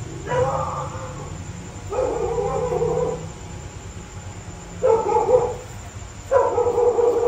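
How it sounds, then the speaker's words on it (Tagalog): A dog barks in four short, fairly loud bursts at steady intervals over a faint steady hum. "So may aso guys."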